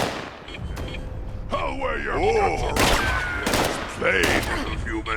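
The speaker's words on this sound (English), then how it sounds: "As you can see, they're shooting me" Enemy gunfire in the video game Fallout 76, rapid shots and thumps mixed with loud groaning, bellowing creature-like voices and game effects, dense and close throughout.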